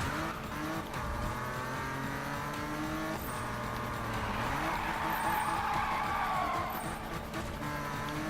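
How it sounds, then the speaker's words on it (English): A BMW M3 GTR drifting in the Need for Speed Most Wanted video game, with the engine roaring steadily and a long, loud tire squeal swelling through the slide, continuous and close. "that was a good drift"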